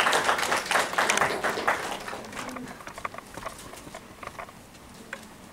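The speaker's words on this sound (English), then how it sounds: "Let's give her a round of applause." A round of applause from a small audience at a LinkedIn-themed gathering, dense clapping that is strongest at the start and gradually thins and fades over several seconds.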